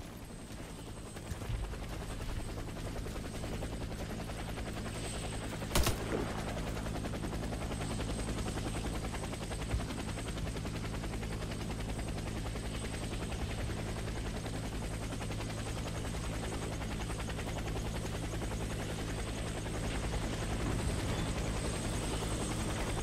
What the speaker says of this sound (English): Get to the helicopter for extraction.